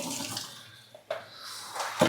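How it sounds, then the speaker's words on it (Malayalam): Water is poured and splashes briefly, a short gushing rinse with a couple of louder splashes near the end. "ഒന്ന് കഴുകാനൊക്കെ വെള്ളം ഒഴിച്ചിട്ടാട്ടോ"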